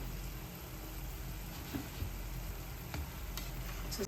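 Nigerian puff puff dough fries in hot oil with a soft, steady, even sizzle and a few faint clicks, fairly quiet and with no voices.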